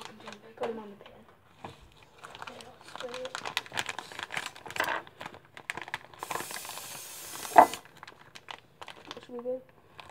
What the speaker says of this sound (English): Put them on the pan. Okay, I'll spray it.